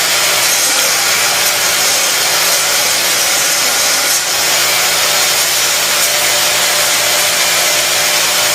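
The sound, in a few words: die grinder grinding off the casting's screw system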